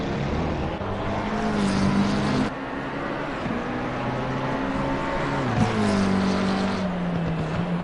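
A McLaren race car accelerates away at the start of the first race of the season, its loud, close engine note climbing and dropping through gear changes for several seconds without talk.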